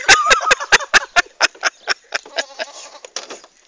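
A goat bleats loudly and close up while being held down, letting out a rapid string of about a dozen short, strained cries that grow more ragged and broken toward the end.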